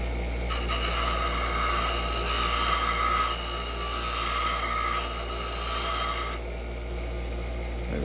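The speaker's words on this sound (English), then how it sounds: "I'm just gonna go over to the bench grinder to do this." A bench grinder grinding down the lever of an antique three-lever desk lock: a harsh, bright rasping whine held steadily for about six seconds over a low motor hum, close up, then the hum alone continues.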